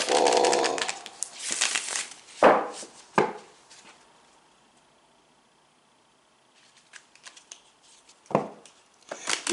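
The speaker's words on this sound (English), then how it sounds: "We'll shuffle, shuffle, shuffle." A deck of cards for a psychic love reading is shuffled in a few short, crisp riffling bursts close to the microphone, separated by pauses and near silence.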